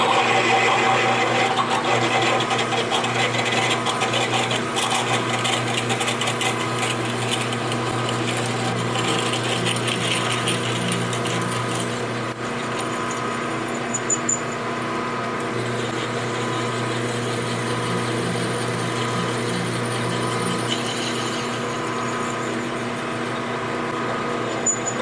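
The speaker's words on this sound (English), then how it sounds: "I've got the 9 bit in here. Get it up close. Anchor her down. Turn it on and see if we can ream it out." A drill with a 9 bit reams out a hole in the handle of a table saw fence, running as a loud, steady, high-pitched whine throughout with slight pulsing, and no voices over it.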